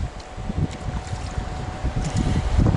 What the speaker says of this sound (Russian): Сегодня сильный, короче, ветер.